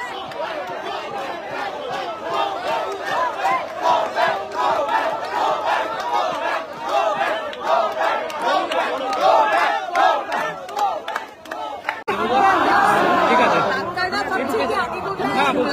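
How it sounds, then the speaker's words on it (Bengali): An agitated crowd at a junior doctors' protest site shouts a rhythmic "go back" slogan at an arriving BJP legislator, with dense overlapping voices and chatter throughout and a louder surge near the end. "Go back slogan."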